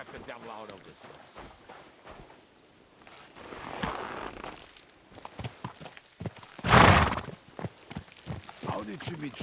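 Hooves clip-clop in a steady trot in Kingdom Come: Deliverance II while a voice talks over them, with a horse whinnying loudly about two-thirds of the way through.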